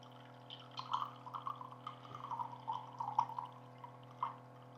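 Bottled water poured into a row of cups set up for a water-quality test with a SimPure filter, a soft irregular run of small splashes and drips over about four seconds, faint and close with a steady low hum underneath.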